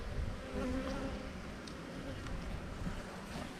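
Honeybees buzz steadily around an open hive during a hive inspection, a continuous close droning hum with no speech.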